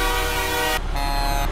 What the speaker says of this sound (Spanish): esa corneta ya no la lleva, O pitido, o claxon, o pitoretazo